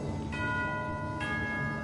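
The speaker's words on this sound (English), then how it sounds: "That's the sound of the bell." A bell rings in The Narzissenkreuz Adventure video game, two clear sustained chimes with long ringing tones, the second struck about a second after the first, fairly quiet.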